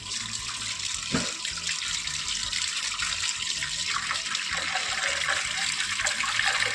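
Tap water runs steadily into a sink while rice and lentils are washed for homemade baby cereal, a continuous close splashing stream with a brief sharper splash near the start.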